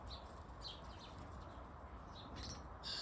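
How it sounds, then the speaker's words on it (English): Small birds, starlings, chirp in a garden in brief high twitters scattered over a steady low background rumble, faint and somewhat distant. "Look at these birdies"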